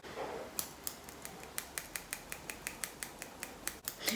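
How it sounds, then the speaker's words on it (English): Scissors trim hair up close in a steady run of about a dozen crisp snips at an even rhythm, quiet and alone with no talking. "I think I'm just gonna give it a little trim."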